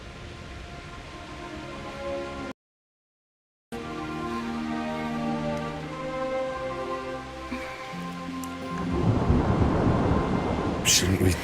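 Thunderstorm in the video game Kingdom Come Deliverance: steady rain and a low rolling rumble of thunder continue throughout, with a short gap of silence, then a louder crash and a harsher downpour toward the end.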